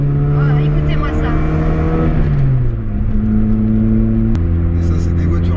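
A Ford Escort XR3i Spec 90 engine revs hard and loud up close, its tone sliding down mid-clip before climbing again, with a sharp shift near the end.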